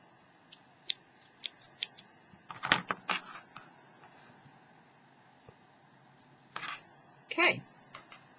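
Scissors cutting crochet yarn at the end of a scarf row, heard as a few soft close snips and rustles among quiet handling noises.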